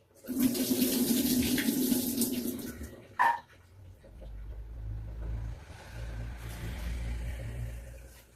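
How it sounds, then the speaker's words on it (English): Susumba berries being washed in water at a sink, with running tap water splashing loudly for a few seconds, a brief clatter, then a quieter low rumble and faint water sounds. "So now that I've picked them from the stem, washing them again"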